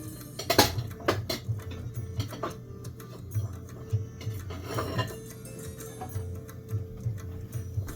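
A new bowl and dishes are handled in a kitchen, with scattered light clinks and knocks of crockery over a low steady hum and faint background noise.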